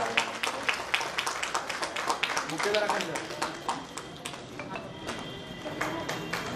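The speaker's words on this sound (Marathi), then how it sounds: "जोरदार टाळ्या आपण स्वागत करूया।" An audience claps to welcome a guest at a Savitribai Phule Jayanti ceremony held by the women's wing of the Dalit Mahasangh in Karad. The applause is dense and fairly loud and keeps going throughout, with a voice audible beneath it.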